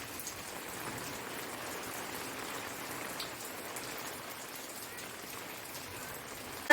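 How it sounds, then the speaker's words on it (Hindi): Steady heavy rain pours down, a dense, even hiss of drops with no pauses and no voices. "हमारे यहाँ बहुत ज़्यादा बारिश हो रही है, ये देखिए।"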